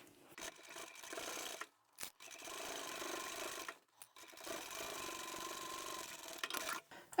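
Sewing machine triple stitching over a bag seam joint, whirring mechanical stitching in several bursts of one to two seconds separated by short pauses, close and moderately loud.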